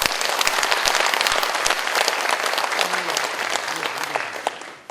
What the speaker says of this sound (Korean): 우선 이 두 분께 뜨거운 박수 한번 부탁드립니다.